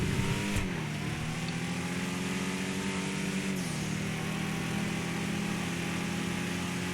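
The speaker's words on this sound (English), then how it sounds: "A lot of wheel spin. This thing's got a lot of low-end torque on it." AMC Javelin with lots of low-end torque launching with wheel spin, a loud sustained engine roar that shifts pitch partway through, with no talking.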